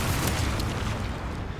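A mortar fires in the video game Resident Evil Requiem, giving a heavy, continuous low rumbling boom that fills the short moment loudly, with no speech.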